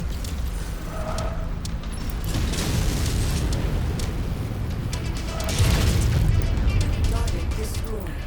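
An AC-20 autocannon firing from a mech in MechWarrior 5: heavy booming shots with crashing impacts and rumbling mechanical noise, two main bursts of bangs under someone talking throughout.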